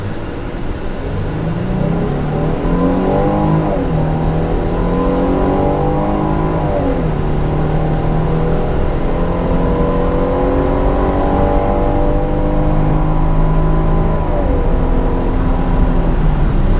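Jeep Grand Cherokee L with V6 engine accelerating hard, engine pitch climbing steadily through several gear changes with each upshift dropping the tone before it rises again, loud interior drone without talk.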